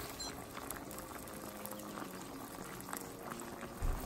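Tomatoes boil in a pot of water for chicken karahi, a soft steady bubbling and gentle churning heard close up and fairly quiet, with a brief bump near the end.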